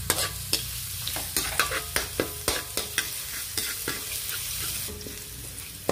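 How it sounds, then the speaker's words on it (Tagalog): Garlic sautéing in a hot wok-style pan, with a bright hiss of oil under a regular series of sharp spatula scrapes and taps, close and fairly loud, about two strokes per second. "dito sa bisim na kawali, dito na rin ako mag-gisa ng bawang."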